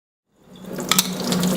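Water squeezed from a makeup brush over a sink, a short wet trickle that starts after a brief silence and holds steady at close range, with a couple of small squishy bursts in the middle.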